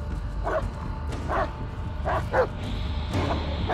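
A dog in the Blair Witch video game barks in short sharp yips, about five or six spaced calls at moderate distance over low ambient rumble.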